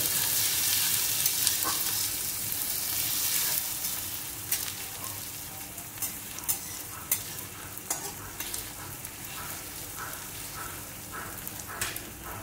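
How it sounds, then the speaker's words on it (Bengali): Onion and sugar fry in a pan for chicken kosha, a soft sizzle under repeated spatula stirs and scrapes that grow more distinct and rhythmic toward the end. "পেঁয়াজটা ভাজা ভাজা হয়ে গেছে"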